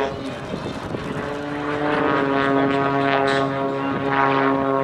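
An Extra 330XS aerobatic propeller plane engine drones steadily with a buzzing, harmonic tone at an air show, swelling louder after a couple of seconds and holding strong to the end.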